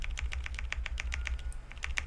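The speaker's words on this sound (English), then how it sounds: "enter key," Enter key presses on a Bakeneko65 mechanical keyboard fitted with Akko Jelly Black switches: a steady string of around a dozen crisp, close clacks at an even pace.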